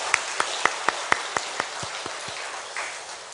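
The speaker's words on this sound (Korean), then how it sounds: "우리 사역자들과 우리의 찬양을 받으신 하나님께 영광의 박수로 돌리도록 하겠습니다" At a Sunday church service, a short run of sharp, evenly spaced claps rings out close by, about eight in quick rhythm, before trailing off into quieter room sound.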